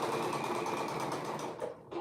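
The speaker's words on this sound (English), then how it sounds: "I'm just sewing the other side of the pocket together" A sewing machine stitches the other side of a garment pocket, a steady close rapid whir that runs for about two seconds and then eases off briefly near the end.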